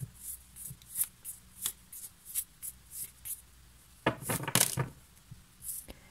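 Tarot cards shuffled by hand in a steady run of crisp riffling bursts, close and fairly quiet, with a louder, denser flurry of card flicks near the end; no talking.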